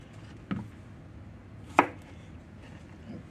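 A knife chops through a squash on a chopping block, giving a few sharp, separate strikes, one clearly louder than the others, close by in a quiet kitchen.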